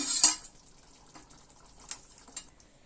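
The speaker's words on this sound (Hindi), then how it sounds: "वो मैं पालक ऐड कर रही हूँ इसमें" Cooked spinach tipped into a simmering vegetable curry in a pot, giving a soft wet plop and a brief clink of a utensil against the pot at the start, then faint scrapes and light taps.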